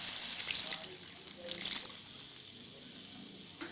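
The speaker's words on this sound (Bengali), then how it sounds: "এবার আমি দিয়ে দিচ্ছি জল।" Water from a bowl is poured into a pan of frying masala for dum aloo, a soft close splash and sizzle that fades under faint background noise.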